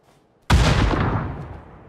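A single loud grenade blast in PUBG, a sharp close detonation that booms and then rolls off into a long fading rumble over about a second and a half.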